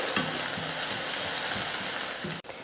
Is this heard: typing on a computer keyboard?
no